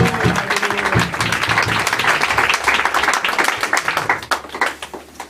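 A church congregation claps and cheers loudly and steadily, dense applause filling the space, with some voices mixed in before it thins out toward the end.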